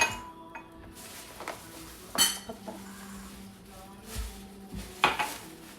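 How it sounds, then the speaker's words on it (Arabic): A knife cuts tomatoes in a home kitchen, making several sharp, separate taps and clinks against a board or dish, close but fairly quiet, with low background noise between strikes. "مطيشه غنقطع مطيشه"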